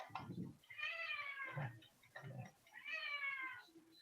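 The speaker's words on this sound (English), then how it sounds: "Is that a cat?" A cat meows twice, each a drawn-out wavering cry, with short murmured sounds between, heard fairly close in a quiet room.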